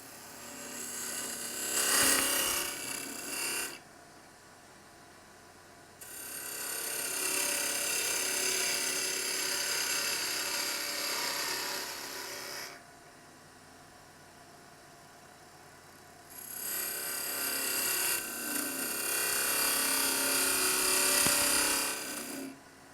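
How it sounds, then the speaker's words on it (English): A wood lathe with a parting tool cutting a tenon: two long bursts of loud, bright scraping and cutting, with a quieter motor hum between them. "when we're parting in with a parting tool, it is important to scrape initially, then try and get some bevel contact"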